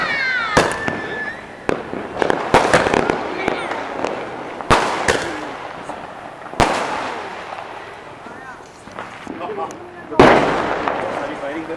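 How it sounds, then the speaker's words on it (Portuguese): Diwali fireworks set off from a house terrace crack and boom in sharp, irregular bursts, some loud and close, others fainter from neighbours, with excited voices talking and exclaiming between the blasts. "vamos começar agora a queima de fogos, quer dizer, já começou aqui no terraço de casa."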